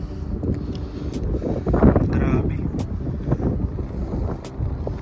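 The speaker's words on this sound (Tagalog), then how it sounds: "Wala kayong maririnig kundi hangin talaga." Strong wind on Mount Ulap buffets the microphone in heavy low roaring gusts, with a person speaking briefly over the blustery noise.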